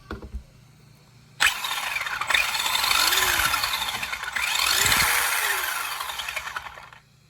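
Traxxas Rustler BLX RC truck with upgraded parts on a 3S battery, a high electric motor whine surging and fading as it accelerates past twice, close and fairly loud, then cutting off.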